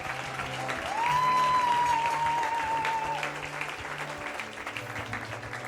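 A church congregation at a youth congress breaks into sustained applause, loud and dense, swelling with a sung or whistled tone and crowd noise before slowly thinning out.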